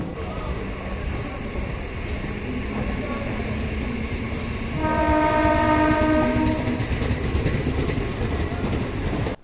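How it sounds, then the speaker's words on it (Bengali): A train from Lalgola bound for Sealdah rolls past Berhampore Court station with a steady rumble and clatter, then sounds a long, loud horn blast midway that holds for a few seconds. "এই ট্রেনটি লালগোলা থেকে আসছে, বহরমপুর স্টেশন হয়ে শিয়ালদা যাবে।"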